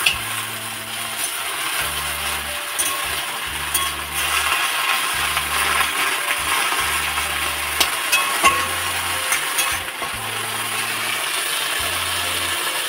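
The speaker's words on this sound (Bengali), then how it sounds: "রান্নাঘরে এসে যে দেখো পাট শাক ভাজা বসিয়ে দিয়েছি।" Jute leaves frying in a pan in a home kitchen give a steady, broad sizzling hiss throughout, with a low rhythmic musical pulse running underneath.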